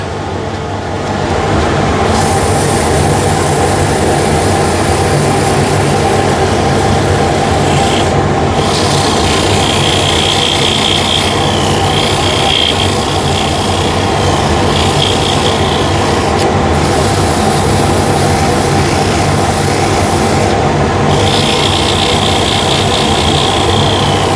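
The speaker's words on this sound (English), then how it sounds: "let's sand this with I don't know, 240 grit. So 240 or actually 220 grit." Turned wood being sanded with 220 grit sandpaper on a lathe: a steady, loud, continuous abrasive rubbing rasp that carries on for the whole stretch without pause or talk.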